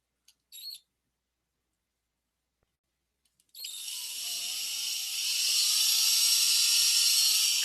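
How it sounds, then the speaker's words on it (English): A small drill bores a hole into a tabletop miniature, starting after a couple of brief clicks with a steady, high-pitched whine that holds on at close range and grows slightly louder. "Drill a little hole here."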